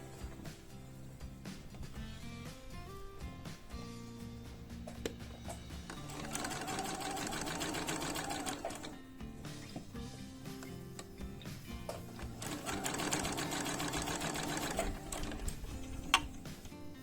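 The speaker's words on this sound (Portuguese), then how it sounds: "vamos fazer um pesponto na diagonal daquele quadrado que se formou ali." A sewing machine runs a diagonal topstitch across quilted fabric, its close mechanical whirring and ticking gear clatter swelling into two longer fast stitching runs separated by slower, quieter stretches.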